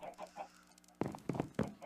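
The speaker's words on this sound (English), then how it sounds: "I have this command block here that spawns in more chickens" Several short clucking bursts from video game chickens, a quieter stretch first and then three louder clucks close by near the end.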